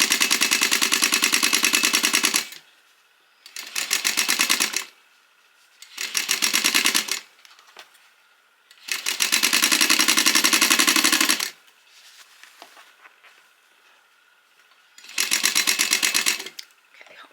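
A sewing machine stitches the seam of a beginner grocery tote in loud, close bursts of rapid whirring, five runs of varying length with quiet pauses between.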